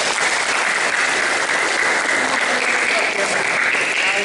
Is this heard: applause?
yes